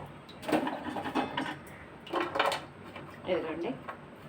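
Remaining coconut pieces being dropped into a pan of sugar syrup for coconut sweets, producing a few clattering bursts of pieces and utensil knocking against the pan, close, with a voice talking throughout.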